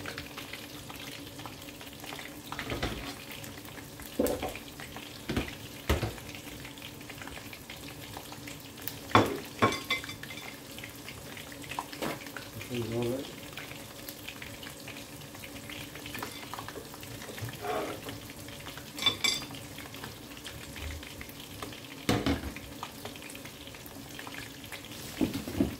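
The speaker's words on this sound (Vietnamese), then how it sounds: "Chiên là chiên tôm rồi bắt thơm ngon là chiên tôm" Shrimp fry in a pan with a continuous soft sizzle, punctuated by intermittent clinks and stirring scrapes of utensils, heard up close and at moderate volume with no talking.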